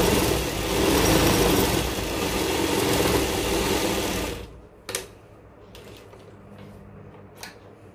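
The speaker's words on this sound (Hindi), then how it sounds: "पीछे की तरफ सिलाई को डबल करते हैं।" A sewing machine runs steadily for about four seconds, stitching back over a palazzo seam to double it, then stops, leaving a quiet room with a few faint clicks.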